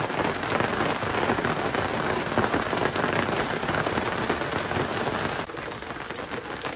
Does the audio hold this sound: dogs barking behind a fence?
no